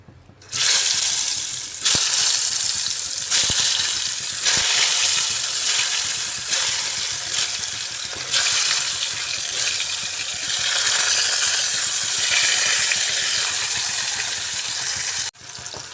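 Pieces of ash gourd fry in a hot pan with oil, giving a loud, steady sizzle and crackle that runs nearly throughout, broken by a few sharp clinks of a utensil.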